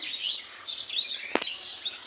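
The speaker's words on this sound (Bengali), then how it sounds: "চলো দেখি পাখিগুলো" Small birds chirp and tweet steadily in high, bright calls, with one sharp louder click-like sound near the end; no one speaks.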